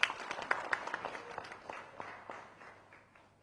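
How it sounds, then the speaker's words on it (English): Light, thinning audience applause at a book launch ceremony in Delhi, with fairly faint distinct claps that fade out over a few seconds. "Give him a big round of applause."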